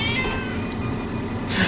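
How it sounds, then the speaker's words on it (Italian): A cat in the Ratatouille video game lets out a loud, drawn-out meow near the end of a short stretch of game background noise. "Stupido gatto."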